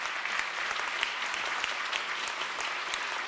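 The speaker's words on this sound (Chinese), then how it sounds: "我们给他们鼓掌好吗？" Audience at an Easter praise service in a church stands and applauds the church band, a steady, dense clapping from many hands filling the room throughout.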